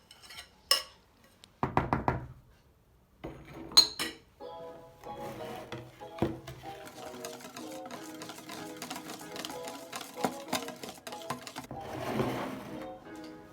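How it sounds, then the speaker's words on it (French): Tiramisu ingredients and beaten egg whites being mixed in a salad bowl: irregular clinks and scraping knocks of a utensil against the bowl, close and fairly quiet, with short pauses and no speech. "reprenez vos blancs en neige et versez tout le reste dans le saladier, puis mélangez"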